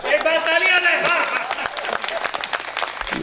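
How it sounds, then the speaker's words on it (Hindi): Audience applause at a Hindi comedy poetry gathering, a dense burst of many hands clapping, loud and close and lasting throughout, with a voice briefly heard at the start. "एक बार तालियां दे।"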